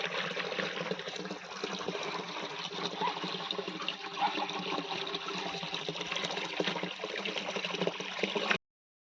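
Water from a pump-filled tank overflows in a steady, rushing gush that splashes continuously and evenly for several seconds before cutting off abruptly.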